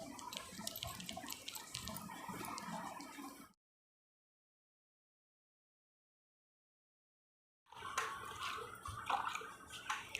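Water splashes and trickles in a tub prepared for a pedicure foot soak. It sounds close for about three seconds, cuts to silence for roughly four seconds, then returns with more splashing and dripping.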